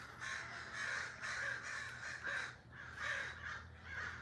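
Crows caw repeatedly outdoors near a tree, harsh calls in overlapping bursts that sound fairly distant and soft, with no talking.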